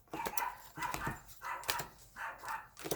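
Several quiet dog barks and yips in an irregular series, somewhat distant and soft, with brief pauses between them.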